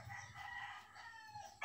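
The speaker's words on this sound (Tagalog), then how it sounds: "maraming manukan to. Alaga din ng mga manok." Rooster crowing at a chicken farm, a faint, drawn-out call with wavering tones rising and falling over a low background murmur, ending in a sudden louder burst.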